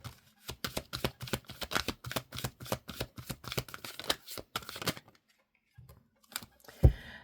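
A deck of tarot cards is riffled and shuffled in quick rhythmic bursts of crisp flutters, close and clear, then goes quiet before a few single card snaps as cards are drawn.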